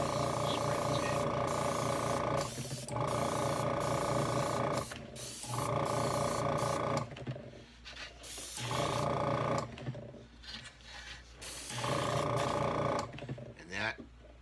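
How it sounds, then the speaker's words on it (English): Spray paint hisses in a series of short bursts onto a model table, each spurt starting and stopping abruptly with brief pauses between, close to the microphone. "Spray the table."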